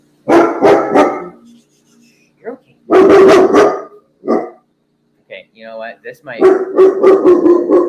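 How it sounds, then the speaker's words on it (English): A pet dog barks indoors during a livestream, several sharp barks in quick bursts that alternate and overlap with a nearby person talking. "Sorry for my dog"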